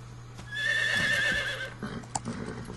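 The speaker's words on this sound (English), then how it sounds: "oh no, there's an actual in-game horse." A horse in the video game Metal Gear Solid 3: Snake Eater whinnies loudly in a single drawn-out call, followed by a few hoof clops and faint thuds.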